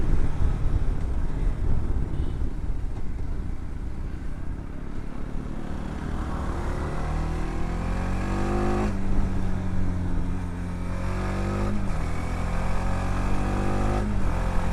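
A TVS Apache RTX 300 motorcycle engine revs up steadily, its pitch climbing several times as it accelerates through gears, loud and continuous with no voices.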